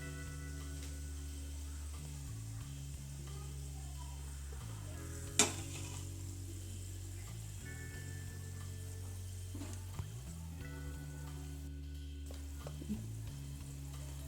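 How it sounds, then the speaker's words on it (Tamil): Cinnamon, cloves, cardamom and bay leaf fry in hot oil for mint rice, a quiet, steady sizzle with an occasional sharp click or tap from the pan and no speech. "எண்ணெய் காஞ்சிருச்சு அதில் பட்டை கிராம்பு ஏலக்காய் போட்டு பிரிஞ்சி இலை போட்டு பொரிய விடலாம்"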